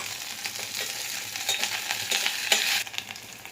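Green chillies sauté with ginger and garlic in a pan, a close, steady crackling sizzle broken by scraping strokes of stirring, with no voices.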